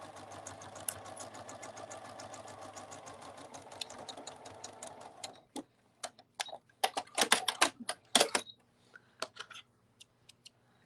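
A sewing machine stitches Minky fabric for a cuddle bunny, humming steadily for about five seconds before stopping, followed by scattered clicks and handling noises nearby.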